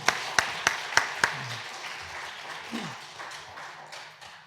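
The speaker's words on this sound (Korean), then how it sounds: "우리 박수로 환영하겠습니다" Church congregation applauds to welcome the pastor, a few sharp, distinct claps up front giving way to softer, scattered clapping from the room, with a faint voice briefly underneath.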